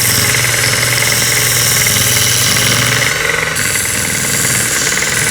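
Work Sharp Combo knife sharpener grinding a knife blade to restore the grind angle and tip, a loud steady abrasive buzz with a brief dip partway through, continuous throughout with no talking.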